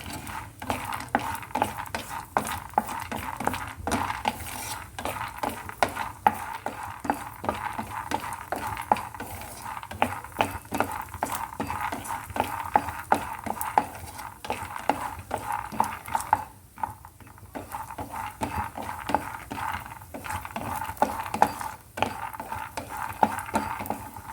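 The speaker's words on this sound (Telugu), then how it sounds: "ఇప్పుడు దాంట్లో పల్లీలు ఫ్రై చేసుకుంటాం కొద్దిగా" Peanuts frying in a pan for peanut chutney rattle and scrape in a steady, busy rhythm as they are stirred, fairly quiet and close, with no voices.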